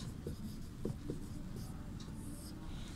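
A word being written on a board in a Sanskrit class, faint soft strokes and taps of the writing implement against quiet room noise.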